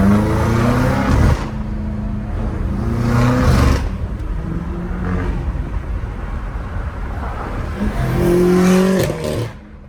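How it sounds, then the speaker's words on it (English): A BMW M5 performance exhaust revs hard several times and accelerates with loud, raspy surges, rising and falling in pitch. It stays close and dominant, with quieter throttle lulls between the pulls. "I can't believe that's a stock exhaust with downpipes."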